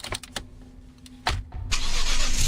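A car engine in a video game cranks and catches with a few short clicks and bursts, then settles into a steady, loud running drone; no talking.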